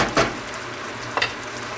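Hawaiian chicken sizzles steadily in a pan, broken by two brief stirring scrapes at the start and near the end, close and clear, with no voices.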